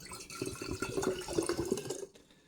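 A cup of vinegar is poured into a rinsed-out old bottle, giving a soft, gurgling trickle of liquid that runs for about two seconds and then stops.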